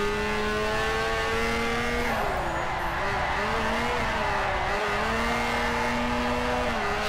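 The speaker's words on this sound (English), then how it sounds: "We'll see Hydro leading this time in the 850. Rairu in the FC RX-7." Drift cars including a Mazda FC RX-7 in a racing video game on the Long Beach street circuit, engines droning and revving at high pitch with shifting tones and tire squeal, alongside a commentator.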